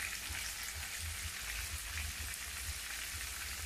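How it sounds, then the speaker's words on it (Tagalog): Fish frying in a hot pan for a Filipino meal, a steady dense sizzle and crackle with a low rumble underneath, continuous and fairly close with no talking. "tayo naman ngayon ay magluluto ng pritong isda"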